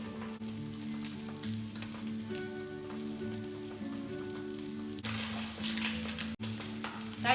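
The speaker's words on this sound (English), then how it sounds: "I'm moving the fish around in the oil without really touching it with a fork." Sea bass fries skin-side down in hot oil, giving a soft, even sizzle like light rain, joined by a louder, brighter crackle as the fish is moved around the pan.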